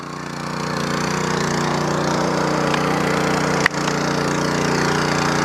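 A Sraja power weeder engine runs steadily at normal revs without load, a loud, even, continuous drone with one brief dip partway through.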